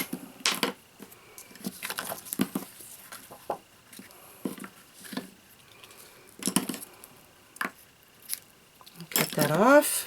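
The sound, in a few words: scissors cutting satin ribbon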